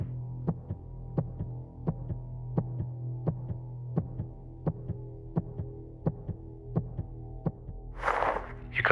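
A steady heartbeat sound effect pulses in a regular rhythm about twice a second over a low, constant hum, ending in a brief burst of noise.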